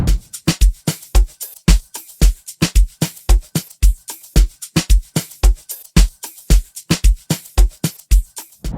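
Afrobeat drum loop with shakers, a steady, punchy groove of kicks and snappy hits layered with bright shaker ticks, repeating evenly and loudly with no voices.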